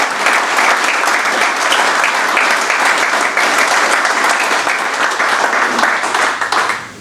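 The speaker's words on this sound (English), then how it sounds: "give yourselves a hand of applause" Steady applause from a crowd at a political party brunch, dense clapping that stays loud and even for the whole stretch before tapering slightly at the end.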